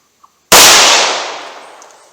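A 9mm pistol fires a single Gold Dot round outdoors about four yards from a chronograph: one very loud, sharp report after near silence, then a decaying ring that fades over roughly a second and a half.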